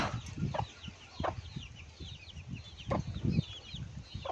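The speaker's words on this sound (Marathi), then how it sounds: "काही कोंबड्या आपल्या बाहेर आहेत, मस्त झाडाखाली आराम करतायत" Hens cluck outdoors near a poultry shed, giving short, scattered clucks and soft calls at irregular intervals, some close and some farther off.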